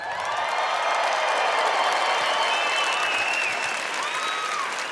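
A live audience at the 2015 Nobel Peace Prize event breaks into sustained, loud applause mixed with cheering and a few whistles, a dense, even roar of clapping hands filling the room for the full stretch.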